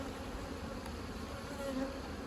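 Honeybees buzz steadily around hive frames being moved into a nuc box during a strong nectar flow, a dense, even drone heard close and unbroken, with no talking over it.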